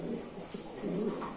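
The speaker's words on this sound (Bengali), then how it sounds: "তো দর্শক দেখেন কবুতরের ডাক" An active pet pigeon gives a low, burbling coo up close, a short throaty call that swells again toward the end over a quiet room background without speech.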